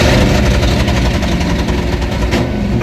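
A Ford Mustang 5.0 V8 runs loud and close, its lumpy big-cam rumble holding steady and even for a few seconds with no talk.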